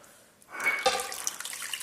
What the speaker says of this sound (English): You first want to add in your yeast and your warm water